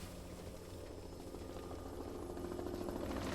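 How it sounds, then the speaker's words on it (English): A helicopter flies over a fire, a steady, fairly faint rotor and engine drone that holds even throughout with no voices. "The helicopter now flies over the fire."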